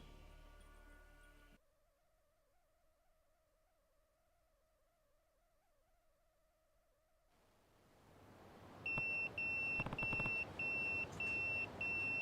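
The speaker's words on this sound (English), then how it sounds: "That's my beeper." Pager in the Yakuza 0 video game beeping as a repeated series of short, bright electronic tones near the end, following a long, quiet, humming stretch.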